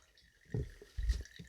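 Faint gurgling and trickling water flowing through a straw from one glass to another, a couple of soft bubbly pulses of liquid moving, quiet and close.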